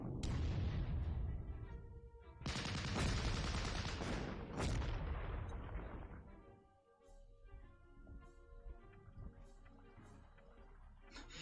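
Artillery fire in the Panzer Corps strategy war game: heavy booming blasts pile up in the first six seconds, loud and dense, then thin out into scattered distant thuds and crackles over a lingering tonal backdrop.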